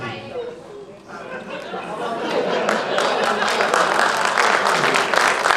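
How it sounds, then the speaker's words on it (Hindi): Audience at a Hindi comic poetry gathering (kavi sammelan) in Navi Mumbai breaks into applause, a dense sustained clapping that swells after a quieter start, with murmuring chatter mixed in. "जो लोग ताली बजा रहे हैं"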